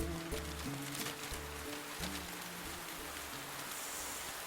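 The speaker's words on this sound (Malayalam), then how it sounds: "എന്തൊരു മഴ" Heavy rain falls steadily as a soft, even hiss of drops on surfaces, faint and continuous, with low musical tones underneath.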